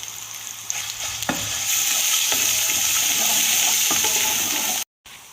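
Ginger and garlic frying in hot oil for Punjabi kadhi pakora, stirred in the pan: a steady, close sizzle with scraping stir strokes, broken by a brief dropout near the end.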